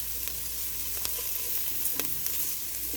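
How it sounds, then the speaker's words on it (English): Onions sauteing gently in a pan for pumpkin soup with roasted garlic added, a steady close sizzle with occasional stirring scrapes and ticks throughout, no talking. "we're going to saute these up until they're translucent in color"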